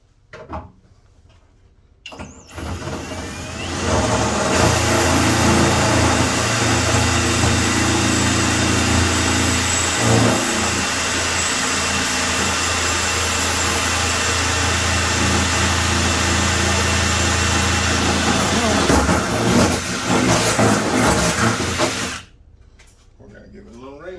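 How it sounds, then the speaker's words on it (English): A power drill whirs steadily and loudly for about twenty seconds after a brief pause, with a low motor hum, drilling a hole for a lathe tool holder, then cuts off abruptly. "We're going to drill another hole."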